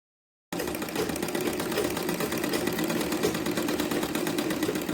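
A sewing machine runs steadily and close by as it stitches a blouse sleeve, a continuous mechanical whir with no talking.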